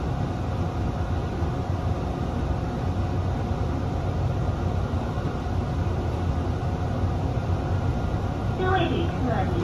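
TEMU2000 tilting express train running on the rails in Taiwan, a steady rumbling roar heard from inside the carriage, constant and unbroken, with a faint voice near the end.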